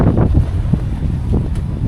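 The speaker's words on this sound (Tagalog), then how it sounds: "Ang lakas ng hangin dito, grabe." Strong wind buffets the microphone on a beach in Pangasinan, a loud steady low roar with gusty swells and no voices.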